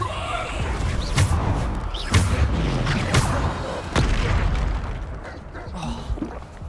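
Spell blasts from the Hogwarts Legacy video game: a series of sharp booming impacts and bursts, roughly once a second, over a busy background of game effects, with no voice heard.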